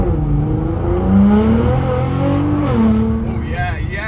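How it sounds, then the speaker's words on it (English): A Nissan GTR launches hard in R mode, its engine rising through gears with a sweeping roar and brief wheel spin, loud and close, with a voice talking over it. "It actually did a bit of a wheel spin then, and it's not done that before."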